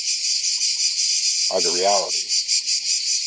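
Crickets chirping at sunset in a steady, pulsing outdoor chorus that runs throughout, with a person speaking briefly partway through.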